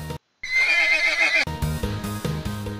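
A horse gives a loud, close whinny with a rising and falling shrill tone, then lively animated music takes over.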